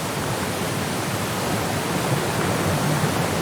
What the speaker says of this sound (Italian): osserva la cascata, bellissima